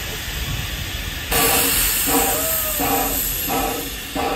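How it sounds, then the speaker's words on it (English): A theme park train at Busch Gardens Tampa hisses steam loudly as it comes to a stop, with a steady high whistle-like tone over rumbling hiss that surges and pulses, no talk. "There goes the train! Or actually, there stops the train!"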